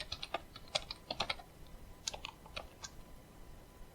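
Quick bursts of typing on a computer keyboard, crisp close clicks in short uneven clusters with brief pauses, quiet and alone.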